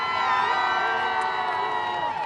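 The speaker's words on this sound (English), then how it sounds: "this crowd is lit and it's all hyped up" A Christmas parade crowd cheers and whoops along the street, children's shouts rising over a steady, lively roar, with music or voices carrying through.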